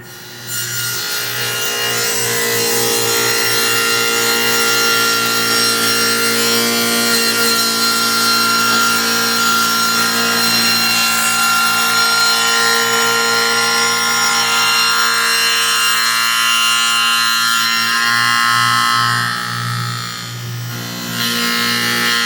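A table saw cuts wood for a bookcase cabinet, giving a loud, close, sustained whine and rasp with steady harmonic tones that dips briefly near the end before picking up again.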